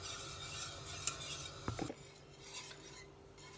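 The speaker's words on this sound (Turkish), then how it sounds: "Sürekli karıştıracağım." A spoon scrapes softly and steadily through a milk halva mixture with vanilla cooking in a pot, faint and close, with one brief clink of utensil against metal.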